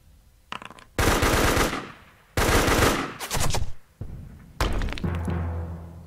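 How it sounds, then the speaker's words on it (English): Machine gun fire in the Heroes of Normandie war game, loud sustained bursts with three long volleys separated by short pauses and a quick stutter of shots in between, close and dominant. "And there goes my machine gun."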